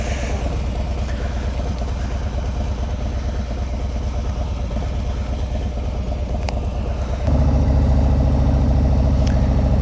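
A 2020 Harley-Davidson Low Rider S Milwaukee-Eight engine with aftermarket exhaust idles with a deep, lumpy rumble nearby, then revs up and grows noticeably louder near the end.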